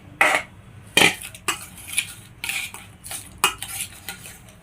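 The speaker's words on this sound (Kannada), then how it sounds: "ಅದೊಂದು ಸ್ವಲ್ಪ ಆರಿದ ಮೇಲೆ ಹಾಕ್ಕೊಂಡು ಮಿಕ್ಸ್ ಮಾಡ್ಕೊಳ್ಳೋಣ" A spoon mixes a cooled tempering of mustard seeds and curry leaves into a raw carrot salad in a bowl, making repeated close scraping and clinking strokes in an uneven rhythm, with no voices.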